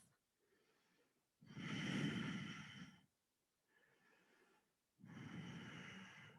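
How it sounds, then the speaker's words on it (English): Slow yoga breathing during a closed twist: two strong, close breaths about a second and a half each, with softer quieter breaths between, all in a quiet room with no talking. "So take a breath."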